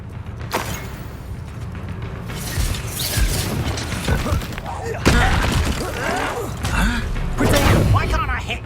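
The Confringo blasting spell explodes in Hogwarts Legacy with booming, crackling blasts and shattering debris amid chaotic combat sounds, while characters shout and talk over the fight.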